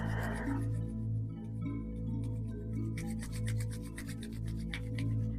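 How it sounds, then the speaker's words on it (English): Palms rubbed briskly together during a morning yoga practice, a soft dry rasping friction heard up close and continuous over a low steady hum of background music. "bring the palms of the hands together and rub them to create some heat within the hands"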